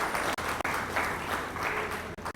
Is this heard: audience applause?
yes